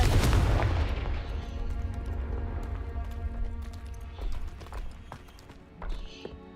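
A Confringo blasting curse explodes in Hogwarts Legacy as one loud, low boom up close. Its rumble fades slowly over several seconds, and a few small clicks and pops scatter across the tail.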